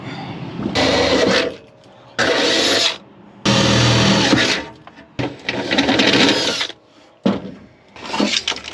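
Drilling holes for a bracket on a Toyota Tacoma: a power drill runs in several loud bursts of about a second each, separated by short pauses, with rough grinding texture as the bit cuts through.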